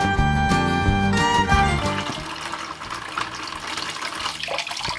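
Water pours and gushes steadily from a camper van's fresh water tank in a Ford Transit conversion, a loud continuous splashing flow with a stronger burst at the start that eases slightly but keeps running throughout.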